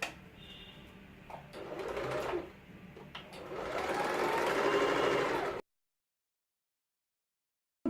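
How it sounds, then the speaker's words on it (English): A sewing machine stitches a potli bag lining with back stitches, giving short whirring bursts and then a longer steady run before it stops abruptly into silence. "I just give it a quick stitch all around with some back stitches at the beginning and at the end."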